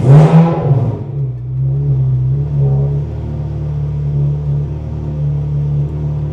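Car engine with variable valve timing on a FuelTech FT700 setup, starting with a loud burst and then settling into a steady, close idle with a low droning hum and no talking.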